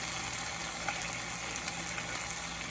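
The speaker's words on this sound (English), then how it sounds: "I'm going to cook the steak a little bit more though" Steak sizzles and fries in a pan in a steady, close hiss with small crackles and pops, alone without any talking.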